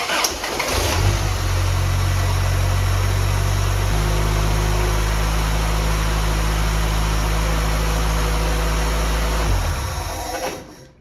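A Toyota 22RE engine starts and runs at a steady, loud idle for about nine seconds after an oil change, then shuts off; the close, even rumble stays constant and no one speaks.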